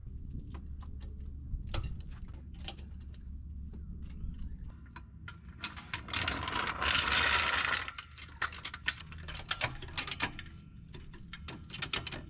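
Ratcheting socket wrench loosening bolts on a Jeep wheel hub during an axle replacement, steady clicking ratchet strokes close up with a short burst of heavier mechanical noise midway.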